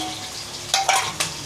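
Curry leaves dropped into hot oil in a pan, a steady close sizzle that flares into a few brief louder crackling bursts, with no talk.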